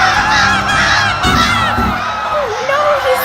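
A giant flock of crows attacking a person, with dense, overlapping harsh caws and squawks that fill the whole stretch loudly and continuously, like a close, agitated crowd of birds.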